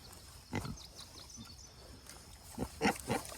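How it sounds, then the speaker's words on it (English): Pigs in a paddock grunting, several short rough grunts and snorts scattered irregularly, a pair early on and a louder cluster near the end, fairly close against a quiet outdoor background. "That's too many pigs."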